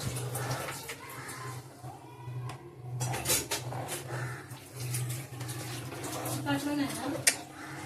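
Chicken biryani stirred in a pot, with soft scrapes and clinks of a spoon against metal under continuous talking.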